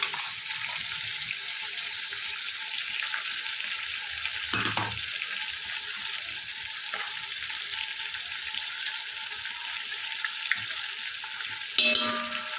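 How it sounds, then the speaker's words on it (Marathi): Ginger-garlic paste with coriander and mint sizzles in a pan for mutton biryani, a steady, fairly loud frying hiss that runs the whole time, with a brief stir near the end. "आता आपण अद्रक लसूणचे पेस्ट टाकणार अद्रक लसूण कोथिंबीर आणि पुदिना"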